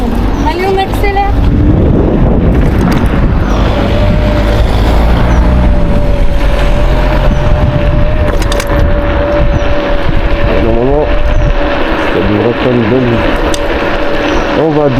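A Kaabo Wolf King GT electric scooter speeds up, with a steady motor whine under a heavy rush of wind noise that stays loud and constant throughout.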